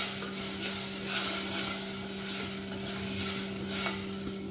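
A paste of ground coconut and green chili sizzles in a hot pan for a taro-leaf dish, with steady frying crackle broken by several scraping strokes of a spoon as it is stirred, close and alone.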